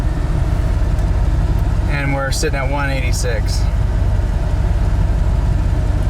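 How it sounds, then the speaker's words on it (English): A 1985 Ford F150 pickup truck engine idles with a steady low rumble throughout, air conditioning on, while someone speaks briefly partway through. "Like we're AC on, sitting here idling with there's no airflow outside at all."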